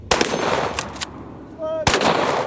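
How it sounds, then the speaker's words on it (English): A 12 gauge shotgun fires buckshot at a Chevy car outdoors, several sharp loud blasts with a brief ringing tone between them, and no one speaking. "So I have 1 round of buckshot and I have 1 slug. All right, buckshots first."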